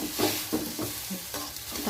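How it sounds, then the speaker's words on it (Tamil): Tomato added to softened onions sautéing in a pan for chana kurma, with a steady soft sizzle and a few stirring scrapes and bursts, fairly close. "வெங்காயம் வதங்கியதும் தக்காளி போட்டு வணக்குங்க"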